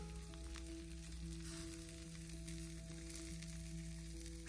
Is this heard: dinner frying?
yes